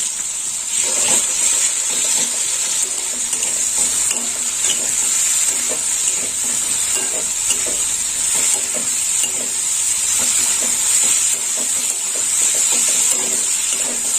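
Okra being stirred in a frying pan with green chilli paste, turmeric and salt, giving a loud continuous sizzle and hiss with repeated scraping strokes of the spatula and no talk.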